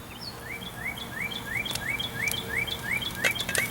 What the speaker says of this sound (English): the bird in the background is a giant male cardinal